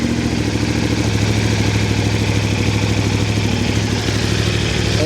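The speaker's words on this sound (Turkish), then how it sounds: "Açtım, bir gaz vereceğim." A Yamaha MT450 motorcycle engine runs steadily at a fast, even idle during a coolant change, loud and close with a constant mechanical clatter, no voices.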